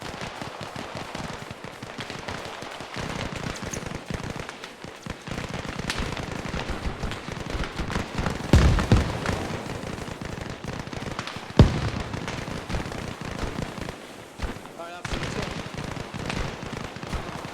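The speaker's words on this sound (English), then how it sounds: "Multiple mortars coming over. Enemy mortars." Enemy mortar rounds land during an airsoft milsim game as rapid, crackling pops and bangs like fireworks, a dense ongoing barrage with a few louder bursts standing out.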